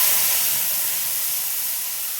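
A vegetarian Bengali spice paste sizzles and spits in hot oil, making a loud, bright hiss that starts strong and fades slightly. No one talks over it.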